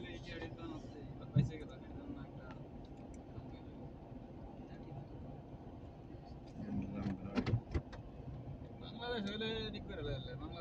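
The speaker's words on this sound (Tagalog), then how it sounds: "Traffic po, traffic." Street traffic in Jeddah heard from inside a vehicle, a steady low rumble of engines and road noise with brief louder passing sounds, while people talk over it.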